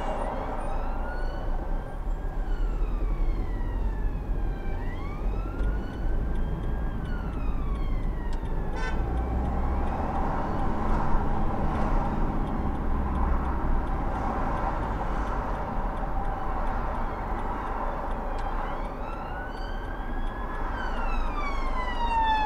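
A police car siren wails in repeated rising and falling sweeps as it passes through traffic. It is fairly loud over a low road rumble, and no one speaks.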